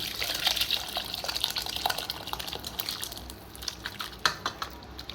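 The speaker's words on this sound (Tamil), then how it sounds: "பாத்திரத்தில் எடுத்து ஊற்றிக்கலாம்" Bone soup pours from the cooking pot into a serving vessel, giving close, uneven liquid splashing and trickling with scattered clinks and gurgles that fade toward the end, with no talk.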